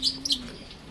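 A racing pigeon in a loft gives a brief, close coo along with a few high, quick chirps, lasting under a second.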